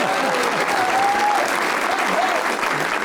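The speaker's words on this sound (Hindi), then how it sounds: "एक इंतहाई आपने तालियां लेने वाला जवाब दिया है।" Studio audience on a television talk show applauds a film star's answer, a dense, continuous wave of clapping with a faint voice or whistle-like tone drifting through it.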